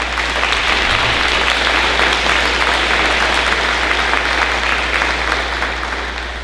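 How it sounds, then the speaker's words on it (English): Sustained, dense applause from a large audience at a 2020 graduation ceremony, loud and even throughout, tapering slightly at the end. "So let's please give them a round of applause"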